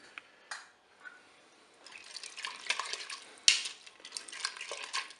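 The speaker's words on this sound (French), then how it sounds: "Bien sûr, je vais mélanger." A spoon scrapes and clinks against a Cookeo pot while tomato paste is stirred into meatballs, with soft wet squelches and a sharp metallic tap midway, close and fairly quiet.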